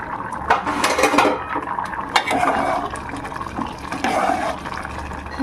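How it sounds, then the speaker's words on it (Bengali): A metal lid lifted off a pot of boiling lentils in a home kitchen, with several clanks and scrapes of metal on metal over a steady bubbling wash, close and moderately loud, no talking. "ঢাকা দিয়ে সেদ্ধ ঢাকনাটা তুলে দেখে নেবো ডালগুলো সেদ্ধ হয়েছে কিনা"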